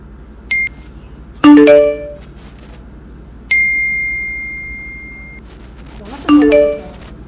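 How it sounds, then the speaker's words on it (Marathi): A phone rings with bright electronic tones in repeated bursts, separated by pauses, and one long sustained tone in the middle. No one speaks. "अरे मोबाईल वाजतोय तुझा उचल लवकर"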